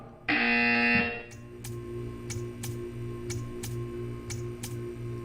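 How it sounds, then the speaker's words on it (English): In the Portal 2 video game, a loud harsh buzzer sounds for about a second, followed by steady, evenly spaced ticking clicks over a low electronic hum. "When you hear the buzzer, stare at the art."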